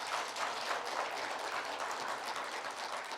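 Audience at an academic conference applauding after a talk, a steady wash of many hands clapping at a moderate distance, fairly soft and even throughout.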